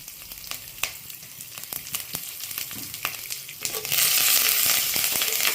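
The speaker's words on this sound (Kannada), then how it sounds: "ನೋಡಿ, ಎಲ್ಲ ಚೆನ್ನಾಗಿ ಫ್ರೈ ಆಗಿದೆ." Chana dal, cumin, dry red chillies, curry leaves and asafoetida frying in hot oil for a brahmi chutney tempering, crackling and popping up close before swelling into a loud, dense hiss.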